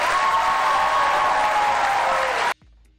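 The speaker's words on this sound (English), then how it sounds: "Now you can applaud for both of them." An audience at a televised Wisconsin Senate debate gives loud, sustained applause that cuts off abruptly near the end, leaving a brief low room hum.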